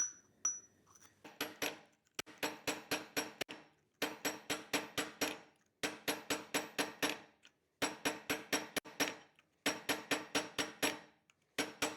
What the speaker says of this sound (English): I'm going to planish everything on it.